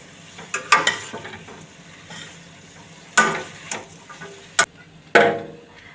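Spaghetti noodles being stirred with masala in a pan produce a series of close, sharp scrapes and clacks of a utensil against the pan, irregularly spaced over a soft sizzle.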